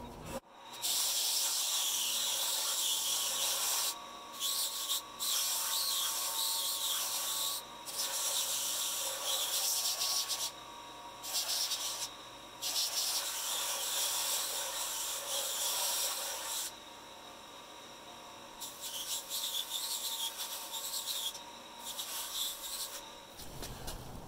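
Long bursts of abrasive sanding as bamboo is pressed against a running belt sander, with brief pauses between passes, close and loud.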